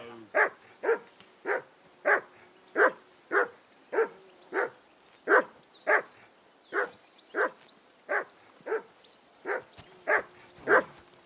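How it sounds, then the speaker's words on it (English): A dog in Kingdom Come: Deliverance II barks in a steady, evenly spaced run of about eighteen sharp barks, moderately distant, with a faint ambient background and no speech. "I assume you can hear that damn dog of yours barking."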